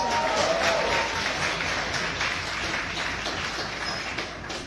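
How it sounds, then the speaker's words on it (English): An audience applauds at a New York Fashion Week charity catwalk show, with dense, steady clapping that gradually eases. "Round of applause."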